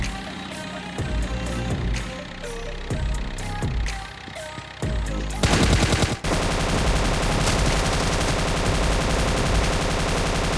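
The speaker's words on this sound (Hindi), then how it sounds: "ओ भाई साहब, मैंने गोलियां रोकी नहीं, मैं तो धड़ धड़ धड़ धड़ चलाते ही गया" In a video game, rapid automatic machine-gun fire rattles in dense bursts, then becomes a continuous loud barrage with jeep engine rumble underneath.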